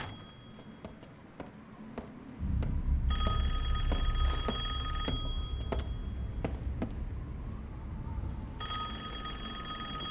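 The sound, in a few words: telephone ringing in Resident Evil Village video game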